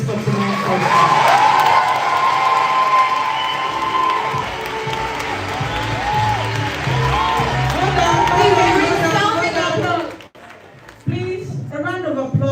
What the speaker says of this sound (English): I think the panel is more deserving of that applause than I am